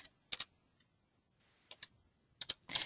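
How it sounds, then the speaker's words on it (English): Keystrokes on a computer keyboard while entering a long number into a mapping program, heard as a few sparse clusters of crisp clicks with quiet gaps between them, close and fairly soft, with no talking. "this is where I'm going to type a number."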